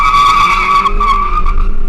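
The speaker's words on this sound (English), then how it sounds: "Listen to the amount of wheel spin it has" Toyota Urban Cruiser manual spinning its wheels, tires skidding loudly with a sustained high squeal over steady engine drone, close up and continuous with no talking.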